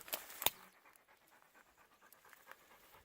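A tired African dog pants softly while resting outdoors on an abandoned farmstead, giving quiet, fast rhythmic breaths after a couple of louder rustles at the start.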